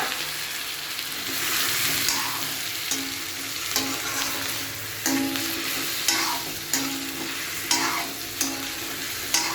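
Fried potato and pointed gourd sizzle steadily in a pan after poppy-seed water is added, while a spoon stirs them with repeated scraping strokes every second or so, close and fairly quiet.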